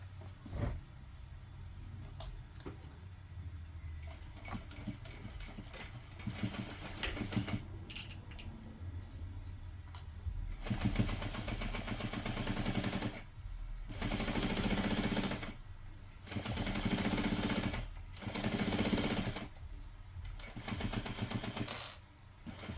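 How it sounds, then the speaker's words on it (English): Sewing machine stitching tote bag lining pocket panels together with a half-inch seam, heard as close bursts of rapid mechanical clatter that start and stop several times, growing longer and louder in the second half. "we're going to sew that together using a 1/2 inch seam allowance"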